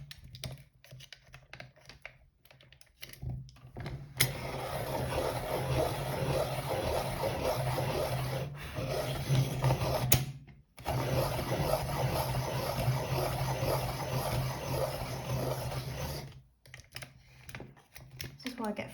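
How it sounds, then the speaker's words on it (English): Close, quiet scratchy grinding of a white colored pencil being sharpened in steady bursts, pausing briefly between twists. "Sharpen this again."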